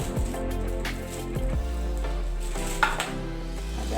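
Margarine melts and sizzles in a hot pan while egg martabak is being prepared, a steady, close frying hiss with a faint hum underneath and an occasional soft clack.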